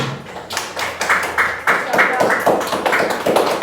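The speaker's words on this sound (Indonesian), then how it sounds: "Tepuk tangan sama temannya." A classroom of students claps in a series of quick, uneven bursts of applause, close and fairly loud, with a voice speaking underneath.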